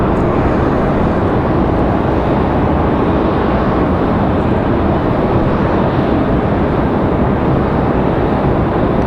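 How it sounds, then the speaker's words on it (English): A small trainer airplane at Raleigh Durham International Airport, ready for takeoff: a loud, steady broadband engine roar that holds constant, with wind noise on the microphone. "Got one of the little trainers ready for takeoff."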